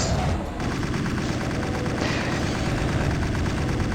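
Weapon fire in the 1990s first-person shooter Doom: loud, dense game gunfire bursts and blasts run steadily through the whole stretch, with no pause between shots.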